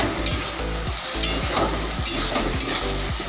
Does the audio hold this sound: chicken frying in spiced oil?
yes